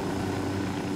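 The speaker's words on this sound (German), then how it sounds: "Der Hubschrauber." Helicopter rotor and engine drone from the video game Ghost Recon Wildlands, a steady low throbbing hum that stays loud and constant for the whole second with no voices over it.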